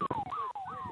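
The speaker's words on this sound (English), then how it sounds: "There's the halftime siren." A halftime siren wails at a second-grade rugby league match between Manly and Southern Districts, a loud rising and falling electronic tone with a few brief breaks, sounding alone.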